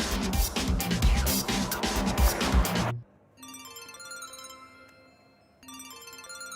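A phone ringtone chimes in a repeating melodic pattern, following a loud, noisy burst of sound at the start.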